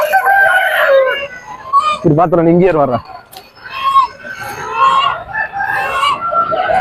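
Chickens cluck and a rooster crows loudly nearby while people talk over the busy clatter of a century-old poultry market in Paramathi Velur, Tamil Nadu.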